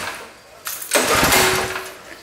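A small engine on an Ariens tractor build sputters into a loud, rough roar after a pull, running briefly before cutting out.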